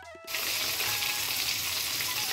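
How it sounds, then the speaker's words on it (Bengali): Chapila fish fry in a pan; after a brief quiet start, a loud, dense sizzle bursts in and holds steady to the end. "মাছটা ভেজে নেওয়া হচ্ছে।"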